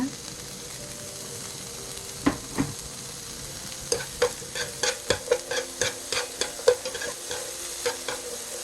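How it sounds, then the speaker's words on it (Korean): Carrots stir-frying in a little oil with a pinch or two of salt, a steady close sizzle under a run of sharp, rhythmic clacks of a utensil stirring against the pan. "두르고 볶는 게 영양가가 훨씬 좋아집니다."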